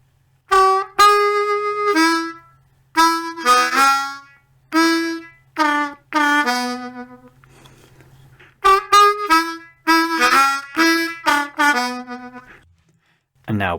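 Blues harmonica plays the section-two theme of a song, opening on a 3-draw half-step bend. The phrases come as short, clear, close bursts separated by brief pauses, with no talking.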